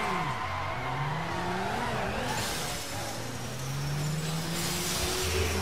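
Car sliding in Midnight Club Los Angeles in the rain, engine drone with rising and falling pitch sweeps and a steady wash of wet road noise, loud and continuous throughout.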